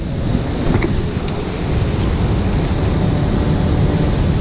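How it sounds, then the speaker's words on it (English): A tumbling river rushes loudly near a set of falls on a northern canoe route, a continuous, deep roar of churning water with wind buffeting the microphone. "The angry waters of the tumbling river were a backing symphony"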